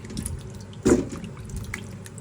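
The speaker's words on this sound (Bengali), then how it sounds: "এই তো মিষ্টি কুমড়াটা ধুয়ে নিচ্ছি" A sweet pumpkin rinsed with water, giving one short splash of water against the vegetable near the middle, with a quiet wet background before and after.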